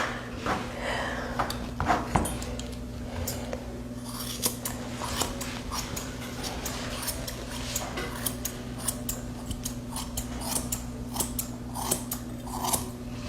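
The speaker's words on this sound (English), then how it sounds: "That's how you can tell what a scissor is serrated, when you can hear it." Serrated grooming scissors snip through a Cocker Spaniel's thick coat, sharp crunching cuts coming in quick, irregular bursts close up over a low steady hum.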